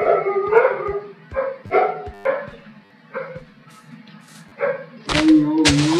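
Dogs in the Minecraft video game bark in quick, close bursts, some yips and howl-like cries among them, with a loud clatter at the end.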